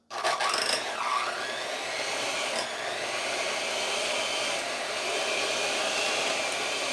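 An electric hand mixer whirs through low-carb double chocolate chip cookie batter, a steady close mechanical drone with a scraping rasp near the start, running without speech.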